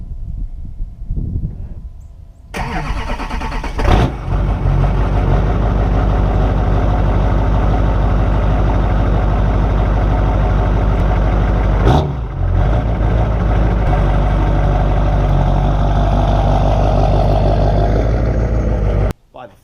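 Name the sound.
LB7 Duramax diesel truck engine cold start idling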